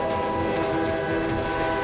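A train in the MadWorld video game rumbles past in a dense, continuous roar with a droning horn-like tone over it, loud and close throughout.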